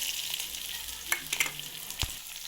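Chopped onion hits hot oil in a heated kadai and sizzles with a crackling hiss, punctuated by a few sharp spatters and stirring clicks, close and alone without talk.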